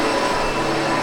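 A SEBO Automatic X7 Boost ePower vacuum cleaner runs at full power, giving a loud, steady motor whine with a constant airflow rush and no pauses.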